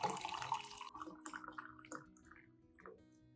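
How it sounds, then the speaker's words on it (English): Hot water splashes and trickles into a cup holding lemon peels, honey and rice, starting with a fuller pour that thins into gurgles and a few drips, close by with no talking. "After that, add 500 milliliters of hot water to dilute the mixture."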